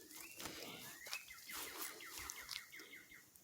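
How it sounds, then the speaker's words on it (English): Faint birdsong drifts in from outdoors, rapid chirps and whistled phrases repeating over steady low background noise, distant and quiet, with no voices. "Listen to them pretty birds."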